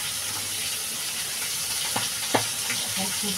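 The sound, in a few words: fish and fish bones frying in oil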